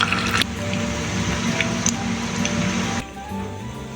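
Sago pakoras deep-frying in hot oil, a steady bubbling sizzle with brief crackles and a sharp clink, the sizzle dropping slightly near the end.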